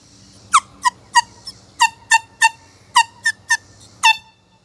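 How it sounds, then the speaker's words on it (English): An air horn under test, nearly malfunctioning, gives about ten short, loud, shrill blasts in an uneven rhythm, each one clipped and squeaky, standing out clearly over a low background hum. "Today, testing an air horn again."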